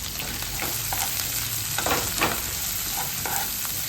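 Onion, green chilli and dals sauté in a hot pan, a steady sizzle and crackle with a few stirring scrapes, close and continuous, no talking.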